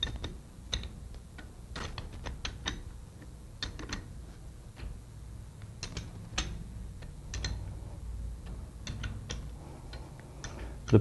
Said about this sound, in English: you would rotate the pump to assure that it is free turning